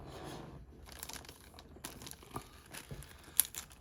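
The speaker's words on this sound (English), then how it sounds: "peel back the plastic." Plastic film peeled back from a craft item, faint crinkling and tearing rustles in short irregular bursts with a few sharper crackles near the end.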